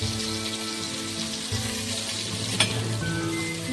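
Okra frying on a flat tava, a dense, even sizzle with a low hum beneath and one brief clack partway through.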